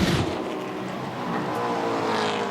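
V8 touring cars racing through turn 1 at Pukekohe in New Zealand, a loud continuous engine roar with a car sweeping past at the start, no voices.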